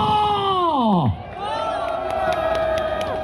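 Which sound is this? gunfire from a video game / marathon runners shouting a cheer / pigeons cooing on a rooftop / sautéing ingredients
marathon runners shouting a cheer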